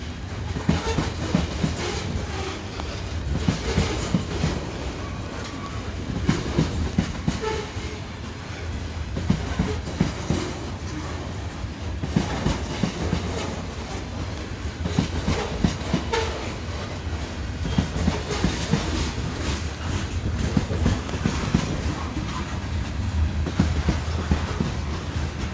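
A freight train rolls past beside a river, a steady, loud rumble of wagons with rhythmic clickety-clack from the wheels that runs unbroken for the whole stretch, with no voices.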